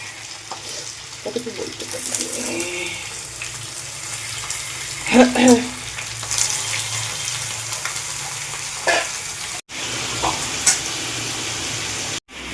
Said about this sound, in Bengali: লবণ আর হলুদ দিয়ে চিকেনটাকে ভেজে নেব